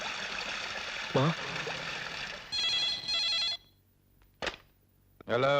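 A telephone rings in short bursts during a tense scene in a Hindi film, with loud electronic tones separated by pauses and other sounds between the rings.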